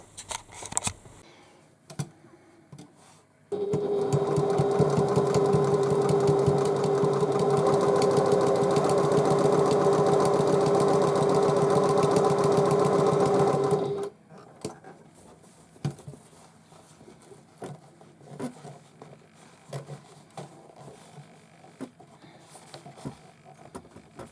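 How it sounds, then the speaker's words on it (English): A sewing machine stitches a tote bag in one steady, even run of about ten seconds, loud and close, with light handling clicks before and after. "we'll go and stitch this"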